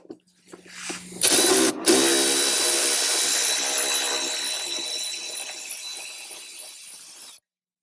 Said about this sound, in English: I'm going to remove the two front bolts